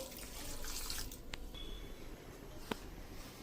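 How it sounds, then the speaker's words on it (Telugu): Plain water is poured over hot cooked noodles for spicy noodles in a home kitchen, a soft splashing rush at the start that fades into quiet drips and a couple of small taps. "ఈ హాట్ మీద మళ్ళీ కొద్దిగా మామూలు నార్మల్ వాటర్ అయితే వేయాలండి"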